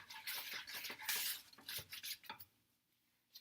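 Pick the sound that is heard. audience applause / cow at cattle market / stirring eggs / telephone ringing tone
stirring eggs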